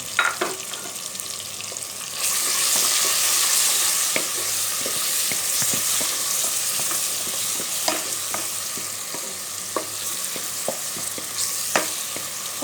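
Tomatoes frying in a spiced masala with salt, turmeric and ground red chilli for dhaba-style dal, a steady close sizzle that swells after two seconds, with scattered stirring clicks and scrapes and no talk.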